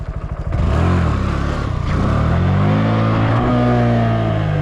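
A motorcycle engine revs hard during a wheelie attempt: a few quick throttle blips, then a sustained loud, close roar with rising and falling pitch, with no talking.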